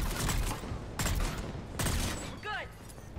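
Burst-fire rifle shots in Mass Effect 3 on Xbox Series S. Several sharp bursts of rapid gunfire crack loudly in combat, with a voice talking underneath and an electronic whirr near the end.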